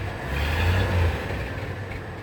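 A 1974 Ford F-250 Ranger with the 4.9 engine and a brand new carburetor running on its first cold start after restoration, a steady loud low rumble that swells as it revs briefly, then settles, with no talk.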